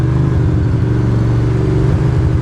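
A Ducati Monster motorcycle rides through traffic on a wet, cold January day, its engine droning loud and close with a steady low rumble and constant wind and road noise throughout.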